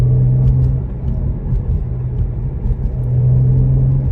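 A BMW 335i turbocharged engine idles steadily, suspected of a failing turbo or boost leak, giving a loud, constant low drone with a faint whirring edge and no talk.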